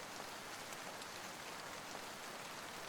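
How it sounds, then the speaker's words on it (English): Steady rain falls on a surface in a dense, even hiss that holds at an unchanging level for the whole stretch, with no voices or other sounds. "told under the rhythm of rain and the roar of thunder"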